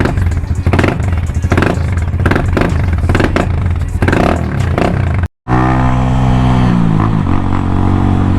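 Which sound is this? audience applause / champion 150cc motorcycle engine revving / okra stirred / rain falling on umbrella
champion 150cc motorcycle engine revving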